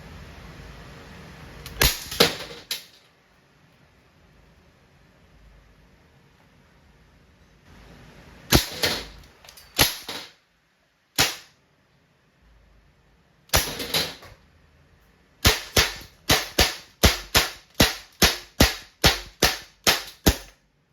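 An Umarex Colt Defender non-blowback air pistol fires sharp single cracks, first spaced apart, then in a rapid string of evenly timed shots near the end, close and without talk.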